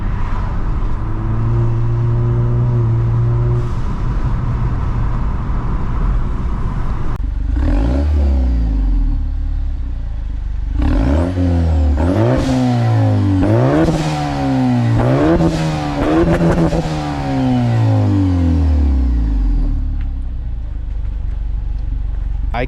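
Loud modded turbocharged Acura RDX engine revving hard, rising and falling in pitch through several gear changes, with a deep rumble and clatter throughout.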